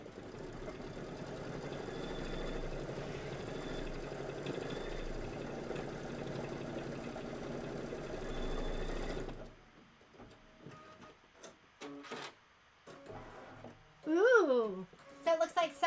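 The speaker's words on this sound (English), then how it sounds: "I'm going to go ahead and hit start, and this is your placement stitch." An embroidery machine runs a placement stitch for a Kimberbell Cup of Cheer project, making a continuous mechanical whir for about nine seconds before stopping. A person then talks over scattered quieter clicks.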